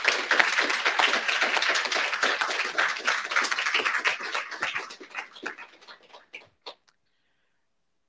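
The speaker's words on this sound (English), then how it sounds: "give a round of applause for everyone today" An audience at a summer systematics institute's final student presentations gives the interns a round of applause, close, crisp clapping that is brisk for about five seconds, then thins to a few scattered claps and stops.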